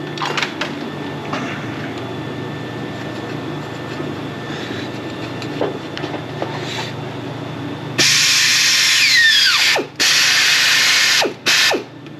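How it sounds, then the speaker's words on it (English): An air ratchet works on the timing cover of a 12-valve Cummins engine, giving loud close bursts of rapid whirring with short gaps between them after a quieter stretch of shop background. "Let's go ahead and grab our air ratchet"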